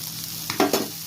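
Mutton spare parts with liver frying in masala in a pan as gongura is added, a soft stirring scrape over a low sizzle, short and close, with no voices.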